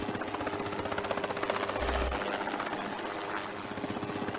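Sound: helicopter hovering

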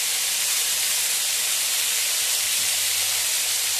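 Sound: stir-frying velvet beans in a wok

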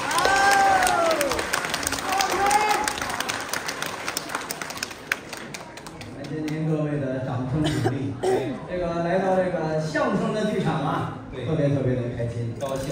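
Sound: audience applause for crosstalk performers

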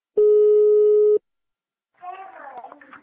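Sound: telephone call tone on prank call

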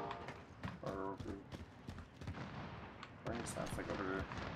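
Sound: gunshots in a video game

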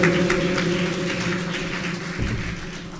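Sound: applause

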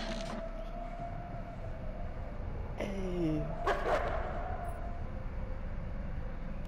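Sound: wolves barking in the video game Until Dawn

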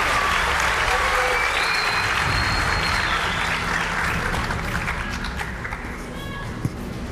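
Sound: audience applause calling performers on stage

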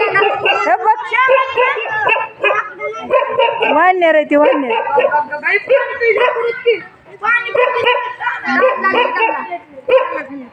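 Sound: dogs barking

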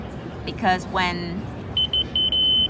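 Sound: laser receiver detector beeping

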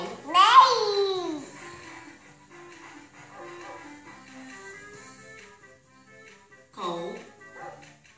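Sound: dog barking

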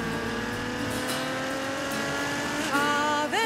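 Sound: Ferrari FF sports car engine driving

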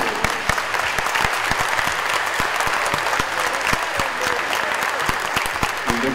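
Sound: applause

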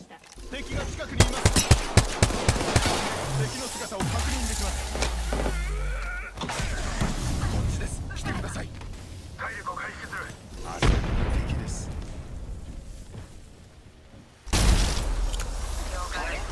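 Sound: gunfire in a video game

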